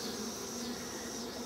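A steady, close buzzing hum of many honey bees on a hive frame fills the whole moment, droning continuously without pauses.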